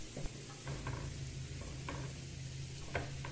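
Butter melts in a pan and gives a quiet, steady sizzle. Faint clicks and scrapes of stirring come through now and then.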